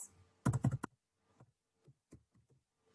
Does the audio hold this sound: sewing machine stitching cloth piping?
no